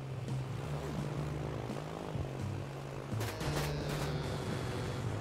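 A propeller plane droning steadily in a video game, a loud continuous engine hum with a low pitched tone that wavers, joined by a brief burst of sharper noise near the end.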